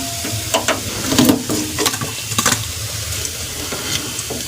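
Drumstick flower fritters frying in hot oil, giving a steady soft sizzle broken by scattered crackles and pops as they turn, close by, with no talking.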